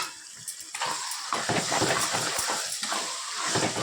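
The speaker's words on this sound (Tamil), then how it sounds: "இப்போ தக்காளி வதங்குற வரைக்கும் வெயிட் பண்ணுவோம்" Tomatoes frying with onions and green chillies in a pan for fish curry, a close, bright sizzle with intermittent scraping and stirring bursts, swelling and easing over a few seconds.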